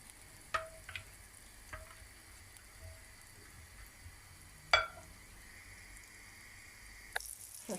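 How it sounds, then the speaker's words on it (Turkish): A knob of butter melts in a heated pan for corn flour crepes, producing a faint, quiet sizzle broken by a few sparse crackling pops. "Isınan tavamıza bir parça yağ koyuyoruz ve eritiyoruz arkadaşlar bir güzel."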